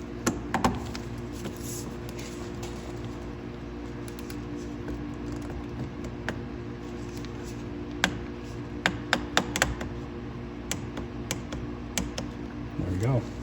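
A new drain plug is torqued to 5 Nm into the bottom of the oil filter housing on a 2024 BMW X7 M60i with the S68 engine. Faint, quick clicks and taps come in short clusters over a quiet background, with a low voice at times.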